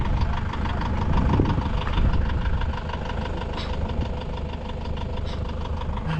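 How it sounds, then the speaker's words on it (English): A big tractor's engine runs loudly and close by, a steady low rumble with knocking pulses throughout and no talking. "big tractor."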